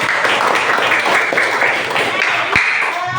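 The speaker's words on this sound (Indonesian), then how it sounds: "Boleh tepuk tangan buat kita semua." A high school class applauds after student presentations, a steady wash of many hands clapping at moderate loudness with some talk mixed in.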